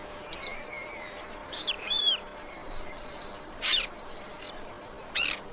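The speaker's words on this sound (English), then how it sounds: "only nightingales fill the silence with their song" Nightingales sing at night, a few short, bright chirps and whistled phrases spaced out over a faint hushed background, fairly distant and alone.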